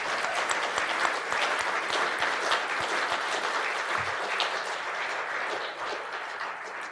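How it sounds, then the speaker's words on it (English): Steady, full applause from a crowd at an outdoor poetry and barbecue event, after a group of local poets performs; a continuous dense patter of many hands at even loudness throughout. "let's have a round of applause for that great group of poets"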